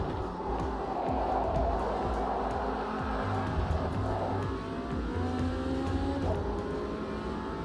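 A race car engine in a sim racing video game revs and drones steadily through corners, with shifting pitch and a faint crowd-like wash behind it.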